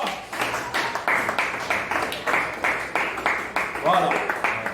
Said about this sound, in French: Oh, donnons une acclamation.